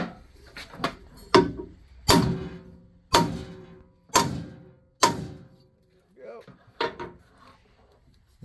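Exhaust valve seats are hammered into a Ford 302 cylinder head in a machine shop: about eight sharp, ringing blows spaced roughly a second apart, close and loud, with quiet gaps between strikes.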